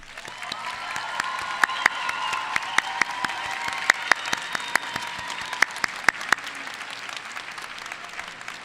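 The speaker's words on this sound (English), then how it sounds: "Please stand now so we can applaud your support." A graduation audience applauds its principals, teachers and clerks: a steady, moderately distant clatter of many hands with a few sharp individual claps standing out, fading slightly toward the end.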